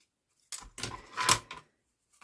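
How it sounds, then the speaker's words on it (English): Scissors cut across folded paper in a few crisp, close snips, about four short crunching cuts over two seconds with silence before and after. "just snip across the both."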